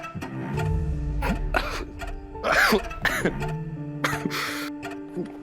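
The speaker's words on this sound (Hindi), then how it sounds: "थोड़ी खांसी आ गई थी" A few sharp coughs and throat-clearing bursts stand out against a steady background of music, close and fairly loud.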